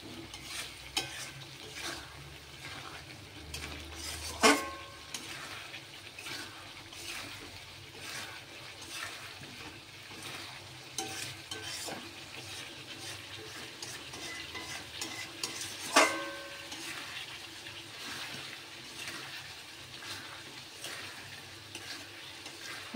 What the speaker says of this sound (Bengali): এরপরেই ভেজে রাখা আলু আর ডিম দিয়ে দিচ্ছি।